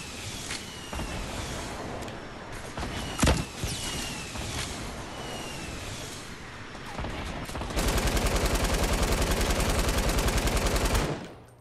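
Rapid automatic gunfire and scattered shots in a Fortnite Battle Royale duos match, with bursts through the first seconds and a loud sustained machine-gun volley for the last four seconds, no talk.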